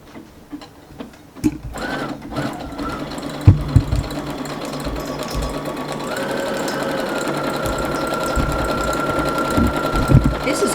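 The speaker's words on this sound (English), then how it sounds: "Okay, so I'm going to sew along over the edge here." A sewing machine works a feather stitch along the edge of fabric for an Easter stuffed rabbit, starting after a few handling taps and settling into a steady, close mechanical whir with a rising tone partway through.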